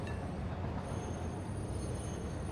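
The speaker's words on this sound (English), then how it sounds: "Created a circle train." A train runs a circular track in the Satisfactory factory-building game, giving a steady rolling rumble of wagons with faint high wheel squeal throughout, no voices.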